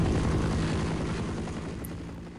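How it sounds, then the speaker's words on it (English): Helicopter rotor and engine from the video game Half-Life, a steady loud thrumming chop with a dense broadband roar, holding level throughout with no talk. "I don't think I can get the chopper by myself."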